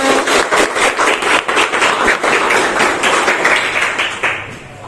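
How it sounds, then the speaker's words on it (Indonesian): A group in a classroom claps together, loud, close rhythmic hand claps that run steadily before trailing off. "Tepuk tangan untuk kita semua."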